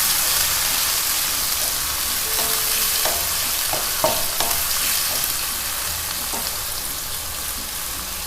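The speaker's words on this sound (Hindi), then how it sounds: "प्याज़ों को गोल्डन ब्राउन करना है इसमें।" Onions frying golden brown in a pan of oil, a loud steady sizzle with occasional stirring scrapes and clinks of the spoon, no talking.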